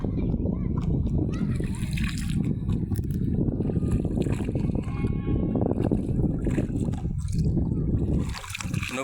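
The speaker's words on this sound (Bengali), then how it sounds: "নৌকাতে যাইতে তো ভালোই লাগে।" A boat moves along a river with continuous loud water wash, wind and rumbling movement filling the whole stretch, and a person's voice occasionally mixed in.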